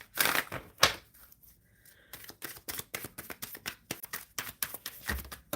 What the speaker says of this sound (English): Still shuffling for the overall energy.